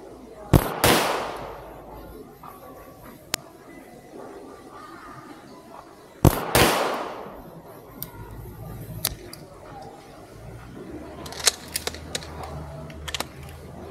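Two loud, sharp 9mm pistol shots crack about six seconds apart at an outdoor shooting range during a 7-meter competition gun test, each trailing a brief echo, followed later by faint clicks and handling noises.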